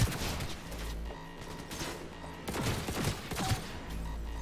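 Revolver gunshots in the video game Cyberpunk 2077, loud sharp blasts ringing out among dense game combat noise and rumbling effects.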